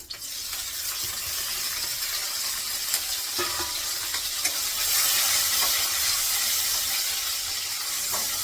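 Onion frying in hot oil in a home kitchen gives a steady, continuous sizzle and hiss with a few faint clicks of stirring, close and unbroken throughout with no talking.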